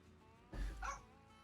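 A puppy gives a single short bark, a quick two-part yip heard nearby against a quiet background.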